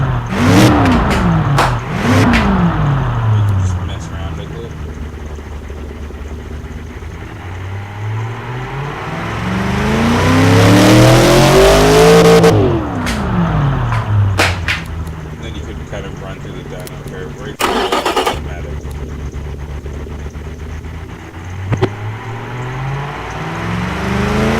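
A simulated car engine revs during testing in the Automation video game, with repeated rising and falling sweeps, one long climb to a loud peak and sharp bursts between steady idling stretches.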